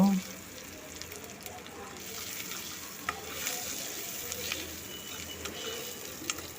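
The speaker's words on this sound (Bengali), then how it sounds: "এরপর ফোড়নটা আর মশলাগুলো সুন্দর করে ভেজে নেব" Chopped green chilli, ginger and whole spices fry in hot oil in a pan, a soft continuous sizzle with scattered stirring scrapes and small pops throughout.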